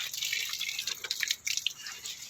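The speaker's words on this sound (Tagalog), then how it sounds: "Magsawa kayo sa malamig na tubig." Cold water runs and splashes outdoors near garden plants, a steady hissing stream with irregular drips and spatters, close and continuous.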